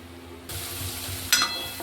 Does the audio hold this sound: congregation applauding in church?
no